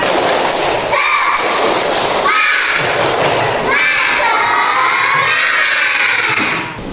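A classroom group of children performs a rhythmic clapping chant, bursts of claps and chanted voices arriving in several energetic rounds, loud and close, ending with a final flourish.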